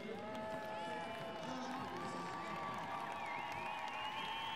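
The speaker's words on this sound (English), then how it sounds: "And you can hear the crowd, you know, they're so pleased." A crowd cheers and claps at an international show jumping Nations' Cup event, a steady, fairly faint and distant roar of cheering and applause with a few higher whistles or shouts.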